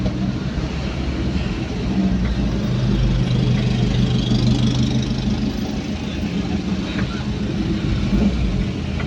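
A car rolls slowly through a nighttime business district while its occupants look for parking, giving a steady low engine hum and road rumble throughout, with faint background noise but no clear speech.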